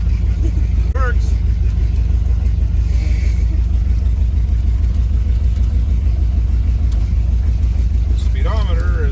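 A 1985 IROC-Z project car rolls forward on its first drive in 18 years, its engine droning low and steady up close, with a few faint squeaks over the rumble.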